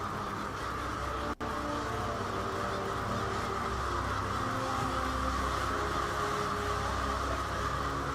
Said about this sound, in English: But what we have here is a murder of crows.